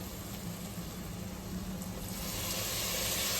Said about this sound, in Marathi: थोडंसं पाणी ऍड करायचं